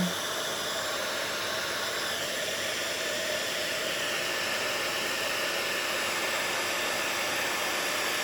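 A heat tool melting embossing powder on a greeting card, giving off a steady, loud hair-dryer-like blowing whoosh with a high whine, unbroken throughout and close, with no talking.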